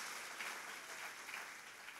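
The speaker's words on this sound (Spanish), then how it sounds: "Date un fuerte aplauso" Church congregation applauding at an anniversary celebration: a faint, continuous wash of many hands clapping, even and sustained for the full two seconds, with no talk.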